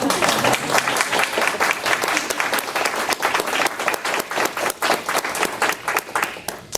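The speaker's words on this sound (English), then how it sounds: "We'll let the record show there was applause" Sustained applause at the close of a public board meeting, dense clapping that stays loud throughout, thinning slightly toward the end.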